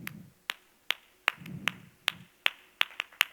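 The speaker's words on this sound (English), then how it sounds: "we had this special clap that we would do on special occasions" An audience at a women leaders' convention performs a special ceremonial clap, about eight sharp, crisp claps in unison at a steady, slightly uneven pace, each clearly separated, with a faint low murmur of voices between some of them.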